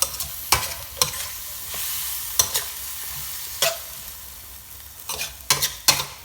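Stir-frying pork stomach with dried chillies in a wok gives a steady low sizzle broken by sharp clanks and scrapes of the spatula at irregular intervals, heard alone without talk.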